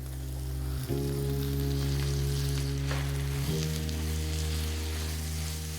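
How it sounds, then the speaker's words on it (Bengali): Tomatoes frying in salted oil in a kadai over a medium gas flame give a steady, close, continuous sizzle with a low hum beneath and no talk. "ততক্ষণ আপনারা গ্যাসটা মিডিয়াম রেখে এইভাবেই ভাজতে থাকুন"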